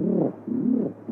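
A voice imitates a carrier pigeon, producing low, throaty coos in two or three rolling phrases, performed alone on a 1946 Brazilian radio amateur talent show.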